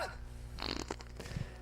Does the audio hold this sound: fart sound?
yes